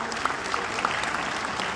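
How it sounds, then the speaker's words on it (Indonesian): An audience at a police farewell ceremony applauds the event committee, brisk close clapping from a crowd with a few murmuring voices underneath. "kita tepuk tangan buat panitia"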